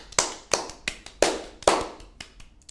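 Sparse hand clapping: about eight separate, sharp claps at an uneven pace, loud and close, with a small group rather than a crowd.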